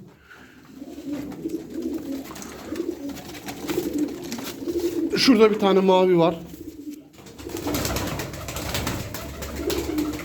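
Pigeons in a Turkish fancier's loft cooing and fluttering, with someone speaking over the bird sounds and a burst of close cooing in the middle.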